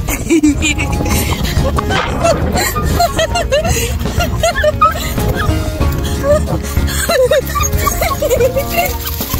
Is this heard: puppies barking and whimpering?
yes